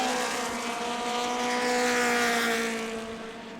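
Stock cars race through turn four at New Smyrna Speedway, a dense, loud roar of several engines with steady droning tones, holding level before easing slightly at the end.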